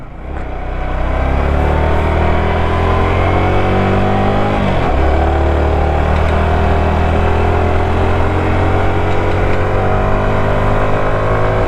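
A TVS Apache RTR motorcycle engine running steadily and loud up close, with a brief dip in pitch around a gear change and a constant droning hum throughout.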